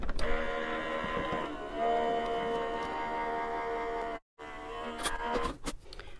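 A Sizzix Big Shot Switch Plus die cutting machine runs a die and clear cutting plate through, giving a steady mechanical drone with ticking, a brief break near the end, then a few sharper clicks.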